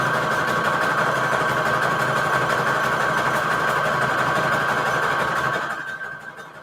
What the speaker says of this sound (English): I just sewed a little zigzag all the way around the edges